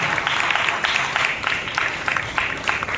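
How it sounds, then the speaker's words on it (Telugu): A church congregation at an evening worship service claps together in steady, rhythmic bursts, the sound dense and lively and filling the room without pause. "ఇంకా బిగ్గరగా చప్పట్లు ప్రభువుని వైపు."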